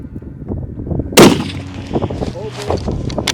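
One sharp, loud rifle shot cracks out during a late-season high-country horseback elk hunt. Hushed voices can be heard before and after it.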